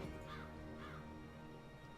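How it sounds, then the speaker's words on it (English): A crow in the video game Dreamfall Chapters gives two hoarse caws in quick succession, faint and set over a steady low musical drone, with no talk. "The magical bird is making a mockery of us."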